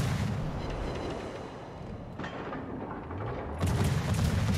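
Destroyer guns boom in a World of Warships naval battle, a dense rumbling barrage of heavy cannon fire that swells louder near the end, with no talk over it.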